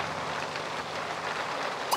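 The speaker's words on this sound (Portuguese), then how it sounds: "Tá chovendo, mas não tá aparecendo a chuva pra mim." Rain falls in The Sims 3, a steady, even hiss of droplets that fills the whole stretch with no voices over it.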